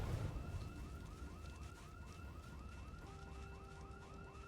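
A rapid, repeating electronic alarm in the video game Project Zomboid warbles in a fast pulsing rhythm over low rumbling background noise. It sounds fairly distant and faint.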